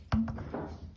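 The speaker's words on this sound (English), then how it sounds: "That's the sound of the knuckle hitting the jack." A single soft wooden tap as a piano action's knuckle hits the jack, short and close, followed by a faint thud and quiet rustle.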